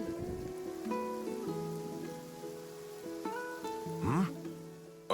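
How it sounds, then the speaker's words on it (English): Rain in a video game, soft patter mixed with game music tones and occasional effects, with voices speaking over it. "Ah, it's raining?"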